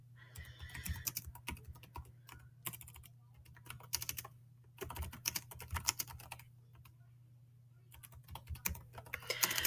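Typing on a computer keyboard, with quick bursts of light key clicks that come and go over a steady low hum, close and quiet.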